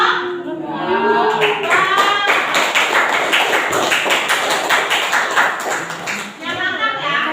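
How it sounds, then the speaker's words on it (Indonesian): A classroom group applauding a presenting team, dense close clapping that swells and carries on for several seconds amid voices and a few cheers. "kasih tepuk tangannya untuk kelompok."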